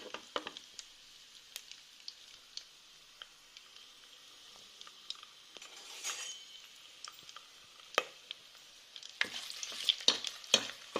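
Rice sizzles gently in a small amount of ghee while a spoon stirs it, with scattered scraping clicks and a few sharper clinks against the pan toward the end.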